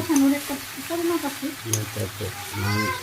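Country rooster meat is stirred and sautéed in a pan in a village kitchen, a low sizzle and scraping stir running close beneath a voice, which talks over most of the sound.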